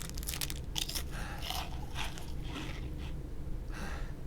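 Eating food in the video game The Long Dark, a series of quiet crunchy bites and chewing sounds repeating in an uneven rhythm over low background noise, with no talk.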